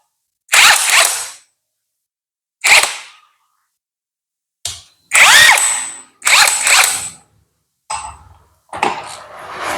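Cordless 48V impact wrench rated 350 Nm loosening a five-year-old bolt on a Honda Beat scooter, loud close bursts of rapid hammering, about seven short blasts separated by silent pauses.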